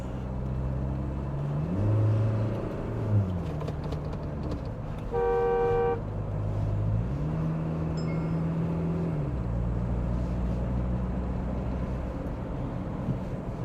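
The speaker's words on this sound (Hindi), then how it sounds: "तो इतनी इंजन की साउंड हमें गाड़ी के कैबिन के अंदर सुनने को मिलती है जब हम गाड़ी को रैप करते हैं" An SUV engine is revved while heard from inside the cabin. Its low drone swells in pitch twice, with a short horn-like toot between the revs and no talking.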